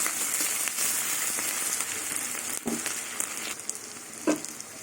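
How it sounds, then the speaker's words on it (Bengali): Onion and garlic fry in a pan for a dal and greens dish, a dense continuous sizzle up close with a few scraping stirs near the end, no voices. "পেঁয়াজ রসুন ভাজা হয়ে গেছে"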